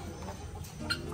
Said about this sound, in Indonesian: Ayam mutiara.